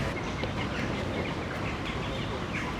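Ducks overrunning a hot outdoor spot, a dense steady din of calls and chatter with people talking now and then in the background.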